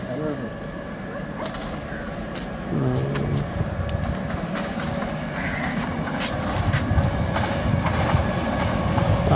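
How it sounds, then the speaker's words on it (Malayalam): A train passes on a nearby track with a steady, loud rumble and rattle of wagons that builds through the passage, with people's voices faintly mixed in. "ഇത് ട്രെയിനിന്റെ ചാകരയായിരുന്നല്ലോ ഉണ്ണി."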